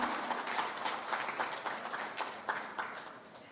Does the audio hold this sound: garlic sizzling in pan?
no